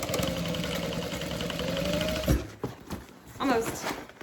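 A sewing machine back stitching a handbag runs with a steady, close mechanical whir for about two seconds, then stops abruptly; a voice talks afterward over faint handling sounds.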